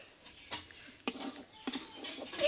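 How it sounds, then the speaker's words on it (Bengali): A metal spatula stirs garam masala into a pointed gourd (potol) filling in a pan, giving three distinct scraping clinks against the pan over a soft, quiet background. "গরম মশলাটা দিয়ে এইভাবে একটু নাড়াচাড়া করে"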